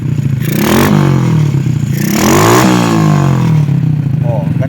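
A stock Honda XRM125 motorcycle engine fitted with a fuel-injection-style carburetor revs hard twice, pitch climbing and falling with each throttle blip over a rattly idle, close and loud.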